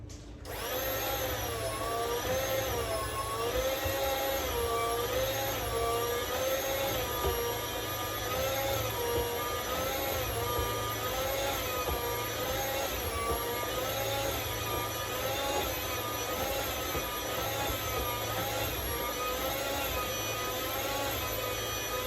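A slicing machine cuts beef for teriyaki jerky with a loud, steady mechanical whine and hum, running continuously at close range with no talking.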